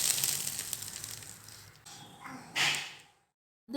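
Hot mustard seed tempering with asafoetida is poured from a small pan into a karpooravalli (ajwain leaf) herb chutney, giving a brief loud sizzling crackle that bursts up and then cuts off into silence.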